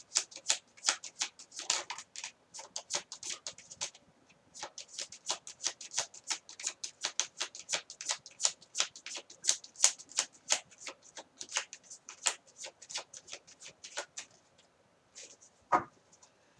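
Tarot cards are shuffled in a long run of quick, crisp riffles and slaps, close and fairly quiet. There are brief pauses between handfuls and no talking.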